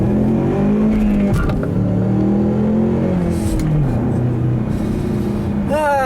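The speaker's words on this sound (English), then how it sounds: "I'll do a little acceleration here like I always do." Ford Mustang accelerating in traffic, heard from inside the car: the engine note rises through the gears in several climbing sweeps, a steady rumble with brief dips between shifts, fairly loud, with no talk over it.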